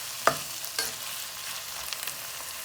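Ginger frying in a pan for stuffed bitter gourd, a low continuous sizzle opened by two quick metallic utensil clicks, close and fairly quiet, with no voices.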